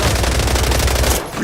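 A rapid, steady stream of automatic gunfire fills a Wuthering Waves battle. It is loud and close, then breaks off abruptly just before the end.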